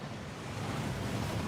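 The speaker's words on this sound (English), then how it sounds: "That waterfall washes away all enchantments." Rushing water from a waterfall in the video game Hogwarts Legacy gives a steady, full roar of broadband noise with no talk over it.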